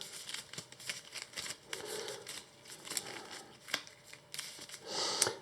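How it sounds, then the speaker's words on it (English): Arkham Horror LCG cards are shuffled into the encounter deck at close range, with repeated riffling card flicks, soft rustles and crinkles that come in quick bursts and stop-start rhythm, with no talking. "We take this from the victory display and these and shuffle them into the"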